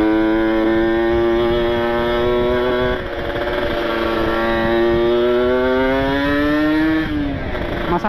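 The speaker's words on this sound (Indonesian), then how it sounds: "Ngobok ya, harus digas agak tinggi." A Kawasaki Ninja RR two-stroke motorcycle engine held at high revs while bogging with a rich setting, a loud close buzzing drone that wavers and sags in pitch, then dips near the end.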